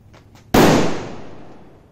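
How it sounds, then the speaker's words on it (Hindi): A single sharp, loud bang of a foil-wrapped string (sutli) firecracker going off close by, its crackling blast trailing away over about a second after a couple of faint earlier sounds. "सूतली क्रैकर है ये जिनके ऊपर फॉइल चढ़ी थी तो हाइड्रो क्रैकर कहा जाता है इन्हें"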